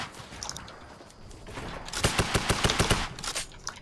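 Rapid bursts of gunfire in the Fortnite battle royale, coming at the player from behind and below, a quick run of sharp shots rattling over about two seconds above a low game background.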